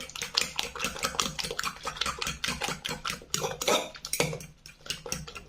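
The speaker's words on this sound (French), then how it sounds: "Une fourchette. Pour mélanger" A fork stirs a mixture for a spinach and cheese quiche, rapidly clinking against the bowl in quick, repeated metallic taps, close and moderately quiet.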